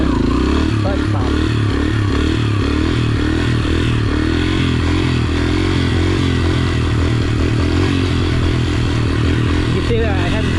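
Dirt bike engine revving hard with repeated clutch pumps while pulling a wheelie, a loud continuous throttle drone with rhythmic surges and some clatter, with a person talking over it throughout.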